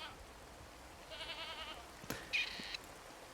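Goats bleat in the video game Card Survival: Tropical Island, two separate wavering calls a moment apart with a sharp click between them, heard alone over quiet background.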